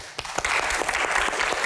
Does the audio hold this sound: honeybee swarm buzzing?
no